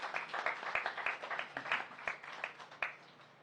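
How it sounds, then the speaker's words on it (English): Audience applause for performers at a Diwali Puja cultural program, a steady, fairly faint patter of many hands clapping without pause. "One more round of applause for all our performers tonight."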